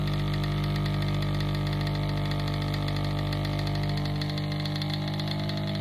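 A vortex paint mixer spinning a can of paint gives a loud, continuous mechanical hum and whir with steady motor tones and a rattling texture throughout.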